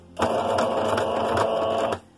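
A sewing machine stitches fabric scraps at a slow, even pace in one close burst of about two seconds, with a steady mechanical whir and soft rhythmic needle ticks.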